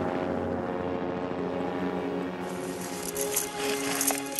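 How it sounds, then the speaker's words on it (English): A helicopter flies over a remote Fiordland river valley, a steady droning engine and rotor hum that holds fairly loud throughout, with no voices. "the other party blazed over us in their chopper"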